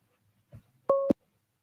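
A single short electronic busy-signal tone from a telephone line, a steady two-tone beep of about a quarter second. It comes alone and fairly clear, just after a faint soft thump.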